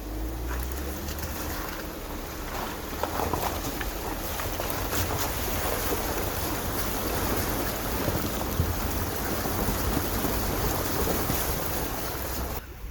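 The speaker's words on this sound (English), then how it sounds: "This is my favorite waterfall." Steady, loud rushing roar of falling water fills the whole clip, constant and broadband, with no voices.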